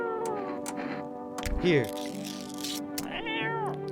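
A cat meows in the video game No, I'm Not a Human, giving several short tonal mews close up under a player's talk, with a longer wavering cry in the middle.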